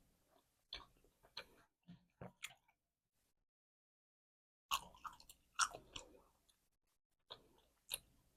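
Close, wet chewing of sour gum in an ASMR setting, heard in short squishy bursts separated by quiet pauses, with a louder cluster of chews midway and a few more near the end.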